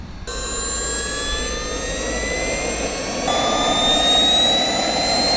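Two small turbojet engines mounted on a bicycle light up and spool up, giving a loud, steady roar layered with rising whistling whines that climb in pitch. The sound steps up sharply partway through as the second engine joins or power increases.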